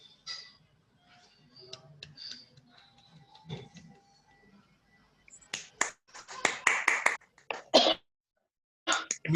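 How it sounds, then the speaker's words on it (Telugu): After a group meditation, a few people clap in short scattered bursts rather than sustained applause, following a stretch of faint murmuring and small movement sounds. "సో ఒకసారి గట్టిగా చప్పట్లు కొడదాం ఈ ధ్యానానికి."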